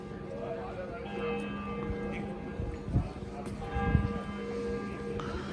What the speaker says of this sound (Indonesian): Lonceng gerejanya sudah bunyi